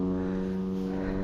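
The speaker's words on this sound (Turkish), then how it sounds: "Üste de sürekli uçak geçiyor." An airplane passes overhead above a field, heard as a steady, droning propeller hum with a strong low buzzing tone that holds evenly throughout, moderately loud and unbroken, with no voices.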